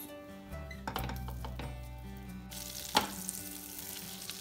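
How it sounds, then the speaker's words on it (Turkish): A low bubbling hiss in a frying pan used for meatballs swells into a bright, steady sizzle as butter hits the heat, with a single metallic clink partway through. "Şimdi geri kalan 1 yemek kaşığı tereyağını köftelerimizi kızarttığımız tavaya alıyoruz."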